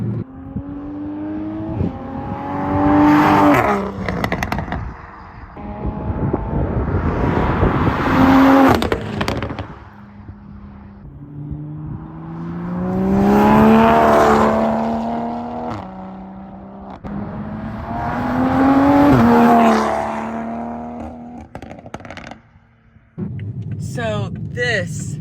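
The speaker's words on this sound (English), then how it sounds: "So this car, this Supra, with the new exhaust, the new suspension, it sounds so good." Engine and exhaust note of a Toyota Supra fitted with a new exhaust and suspension, rising and falling in several long revving pulls over about 25 seconds, loud and close, with a brief harsh burst near the end.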